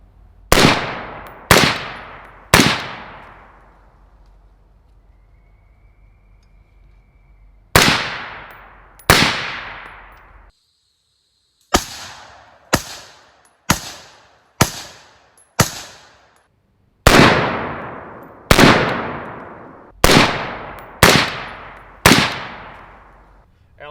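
Rifle shots from a 16-inch AR10 fitted with an Ion 30 suppressor, outdoors: about fifteen sharp reports in irregular clusters, each with a long decaying tail, loud and close with no voices.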